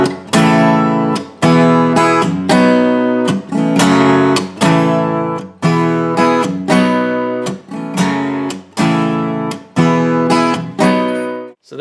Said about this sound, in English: The strumming in the final section sounds like this.